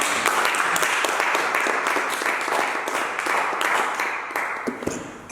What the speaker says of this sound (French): On acclame Jésus, acclame.